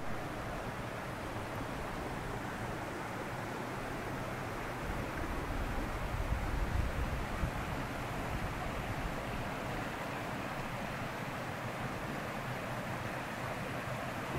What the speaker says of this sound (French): Je suis au milieu du petit torrent là, sur un pont.